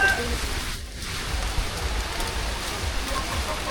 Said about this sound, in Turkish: Look at the rain, brother.